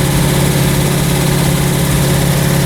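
A car engine idling fast at about 1500 RPM after a new distributor cap, rotor and metal vacuum line were fitted, a loud, close, steady drone with an even rumble and no voices.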